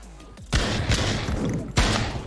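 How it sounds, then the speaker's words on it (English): Desert Eagle pistol shots in the Pavlov VR game, loud close reports with sharp attacks, including two distinct blasts about a second apart over a noisy, ringing background. "So let's switch over to pistols. Deagle."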